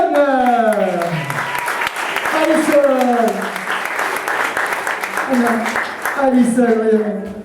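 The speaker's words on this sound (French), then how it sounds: "Mesdames et messieurs, on peut l'applaudir bien fort" Applause at a comedy club show breaks out beneath an emcee's voice, clapping and cheering steady in the background while he keeps talking loudly over it.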